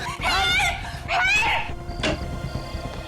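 Several people scream and cry out for help in panicked, wavering bursts inside a house, with two loud cries in the first half and a sharper shriek near the two-second mark over a busy background.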